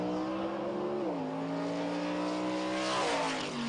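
A Vortec Superstock race truck accelerates hard up the snowy Pikes Peak course, engine note climbing steadily with a sharp shift near the end, loud and close with no talking.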